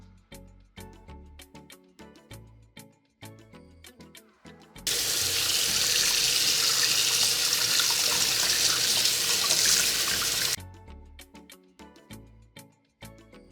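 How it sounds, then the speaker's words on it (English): Kitchen sink tap runs in a steady, loud gush for several seconds while red snapper is rinsed and cleaned with lime juice, framed by scattered clinks and handling noises before and after. "Take the juice of a lime or lemon and clean the gut area."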